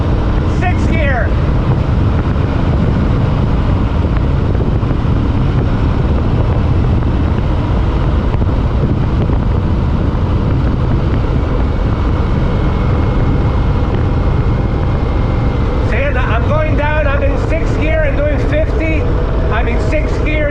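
An Indian Scout Bobber motorcycle cruises in sixth gear at low speed, its engine a steady, continuous drone with broadband road and wind rumble; brief voices break in near the end.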